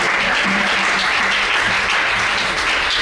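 A church congregation applauds in praise, a dense, steady burst of clapping that fills the space for about three seconds with no voices standing out.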